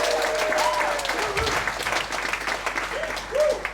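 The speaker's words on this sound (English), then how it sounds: "So give a warm of applause, everyone, for Alex." Applause from a live audience at an evening PechaKucha presentation night in a Bali venue, steady, dense clapping filling the whole stretch without pause, with a few faint vocal sounds rising briefly over it.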